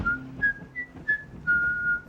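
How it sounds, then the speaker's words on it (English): A person whistles a short tune in a 1989 horror film, Stepfather II: a run of clear, bright sustained notes with brief gaps, the last two held longer, over a low murmur of background sound. "And that is whistling"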